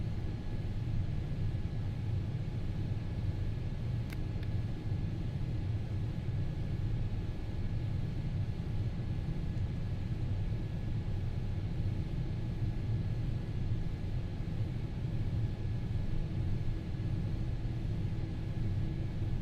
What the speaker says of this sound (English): This plane sounds pretty good.